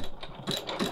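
A sewing machine backstitches a small seam on fabric trays in a short, quick mechanical chatter of clicking stitches at close range, with no voices.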